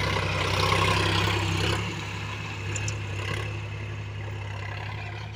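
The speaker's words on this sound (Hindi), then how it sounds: "किस गियर में ट्रैक्टर चल रहा है इस टाइम" A tractor runs fast in gear, its engine a steady loud drone that dips slightly in intensity partway through and then holds on, close and continuous with no talking.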